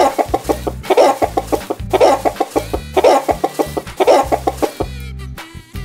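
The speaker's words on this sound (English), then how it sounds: "Chicken." A chicken clucks in a loud, steady run of rapid, evenly spaced clucks in several bursts, close and alone with no talk.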